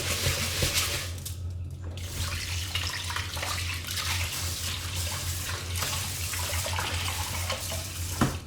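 Rice being rinsed in water for a rice cooker: a steady, close stream of running, splashing water with a low hum, and no speech.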